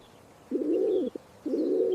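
A pigeon coos twice near a loft, each low, throaty, rolling phrase about half a second long and separated by a short pause, heard clearly with no voices.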